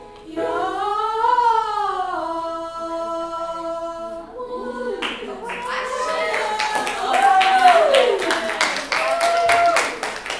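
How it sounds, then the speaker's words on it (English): Choir students in a high school treble choir rehearsal clap in a quick, uneven burst of sharp hand claps after a sustained sung chord, with voices continuing alongside. "Why y'all clapping?"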